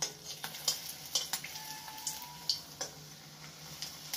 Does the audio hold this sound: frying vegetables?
yes